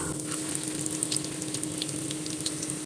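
Spinach cutlets fry in hot oil with a loud continuous sizzle and scattered light pops, close and steady until it cuts off abruptly.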